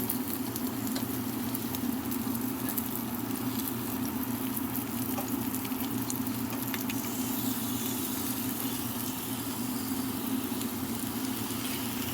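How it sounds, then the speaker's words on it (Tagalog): Eggplant frying in a pan, a continuous soft sizzle and patter of hot oil held at an even level throughout, close by and without speech. "Wait lang natin na mag-brown siya ulit ng konti yung ating eggplant."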